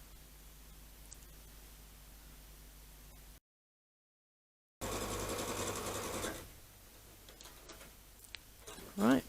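A sewing machine stitches quilt block pieces for a churn dash block, its quiet, even whirring running steadily, broken by a short silence before a louder burst of stitching that fades near the end.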